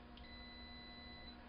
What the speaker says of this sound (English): Now hear it beep?